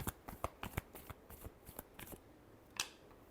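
Tarot cards are shuffled by hand nearby, a quiet run of quick riffling flicks and soft slaps with a final sharper snap.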